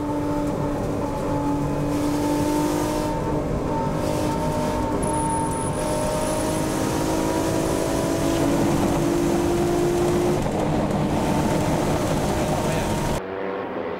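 Toyota Supra and Lotus Esprit race cars passing a Nissan GT-R at speed: a loud, sustained engine roar with steady rising tones, close and continuous, ending abruptly.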